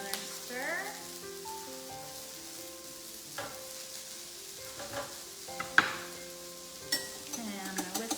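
Patty pan squash sizzling in a frying pan while a spoon stirs it, soft scraping strokes and occasional clinks over a steady close sizzle, fairly quiet.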